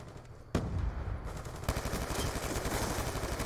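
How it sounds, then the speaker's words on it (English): Rapid gunfire from Call of Duty Black Ops 2 gameplay, a sudden loud burst followed by sustained crackling shots and explosive booms filling the scene with dense, continuous fire. "Okay, you can shoot me through it, Lily."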